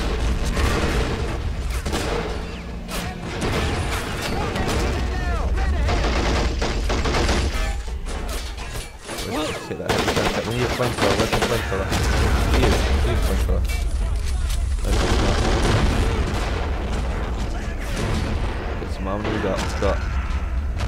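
Explosions and bursts of gunfire in the toy-soldier war game Army Men of War, dense and continuous battle noise with booms and rattling fire, someone talking over it throughout.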